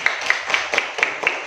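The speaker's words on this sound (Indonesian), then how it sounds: "Tepuk tangan sekali lagi." A classroom gives a few scattered claps for group 1, about six soft separate hits spread over a second and a half, close by and without any speech.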